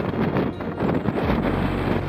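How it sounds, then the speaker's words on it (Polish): Strong wind at a waterfall buffets the microphone in a steady, roaring rush, blowing the falling water upward, with a low rumble of moving water beneath it. "unosi go potężny wiatr, wydmuchując wodę w górę"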